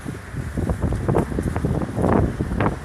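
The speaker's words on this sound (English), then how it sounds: "The wind is really strong" Strong wind buffets the microphone at a roadside protest in Daytona Beach, Florida, giving a steady, loud low roar with gusty swells that never let up across the whole stretch, and no voices come through.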